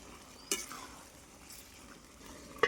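A mutton curry with potatoes is stirred in a pan over a soft background sizzle, with two short scraping strokes near the start and end.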